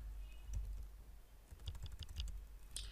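Typing on a computer keyboard, with quiet, close key clicks coming in short irregular bursts that have small gaps between them, and no one speaking.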